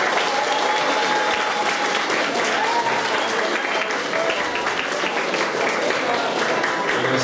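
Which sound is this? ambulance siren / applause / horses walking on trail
applause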